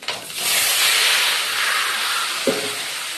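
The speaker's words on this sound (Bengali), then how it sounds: "এবার আমি পেঁপেগুলো সব দিয়ে দেবো।" Papaya pieces tipped into a hot pan of fried coconut and tempering spices, bursting into a loud, steady hiss of sizzling oil and steam that holds throughout, with a brief knock of the pan or utensil near the end.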